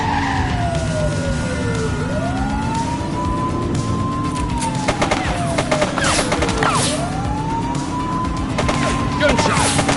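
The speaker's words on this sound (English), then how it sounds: "Gunshot!" In the police video game The Precinct, bursts of gunfire crack repeatedly beneath a wailing police siren that rises and falls in long sweeps, with loud street and engine noise throughout.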